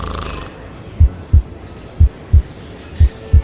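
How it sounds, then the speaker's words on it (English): A double heartbeat sound effect from a Doctor Who audio drama: three pairs of low, close thumps, each pair a quick lub-dub, evenly spaced about a second apart over a faint hum. "2 heartbeats."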